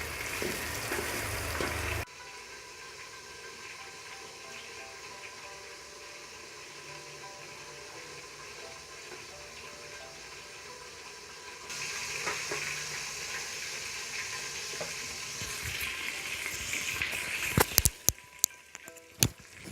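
Chicken pieces and onions frying in a pan for chicken pulao, a steady hiss of sizzling fat that swells louder toward the end, with a few sharp clinks near the close and no talking.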